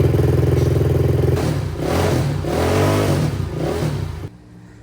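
A racing four-wheeler's engine runs loud and close after being fired back up, revving in uneven surges with a rough mid-range rumble before cutting off abruptly near the end.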